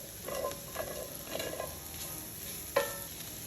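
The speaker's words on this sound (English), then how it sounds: "we're gonna cook this until the onion is tender" Chopped onion frying in a pan, a soft steady sizzle broken by several scraping strokes of a spoon stirring, with one sharper knock near the end.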